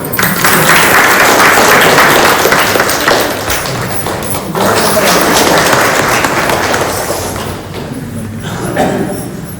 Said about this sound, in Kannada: SP ಸರ್ಗೆ ಜೋರಾಗಿ ಚಪ್ಪಾಳೆ